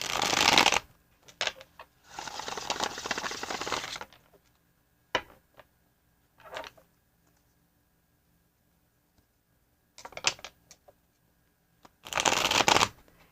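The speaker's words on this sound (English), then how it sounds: "let's get our shuffle on for the Taurus" Tarot cards are shuffled close up in several bursts of crisp riffling and flicking, separated by quiet pauses and a few soft taps.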